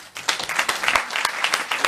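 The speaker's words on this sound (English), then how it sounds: "A big round of applause for our panel." Audience applause for a panel at a talk show on plastic recycling, a lively mix of many claps with distinct sharp individual hits standing out, fairly close and steady.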